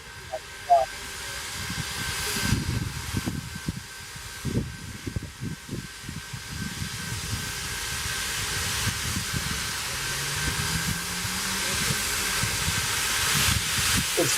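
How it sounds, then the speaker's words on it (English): Sioux Line 1003 steam locomotive pulling away during a holiday event in Wisconsin, a rising hiss and rumble with irregular chuffing bursts that build toward the end, while people talk nearby. "Here's Sioux Line 1003 departing after picking up Santa Claus."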